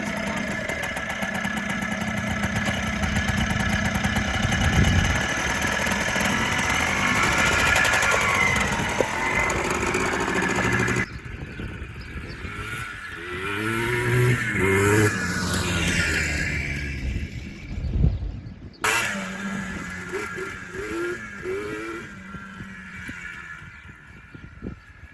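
A Yamaha Blaster ATV engine runs at low RPM with a steady, loud drone for about eleven seconds, then drops into quieter, uneven revving with brief bursts and a sharp knock near the end.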